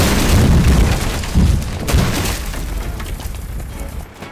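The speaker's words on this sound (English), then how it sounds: "We've got small explosions in the shed." Small explosions go off inside a burning shed in a firefighting simulator game, a deep rumbling boom at the start with a second thud, then a sustained roaring crackle that slowly fades.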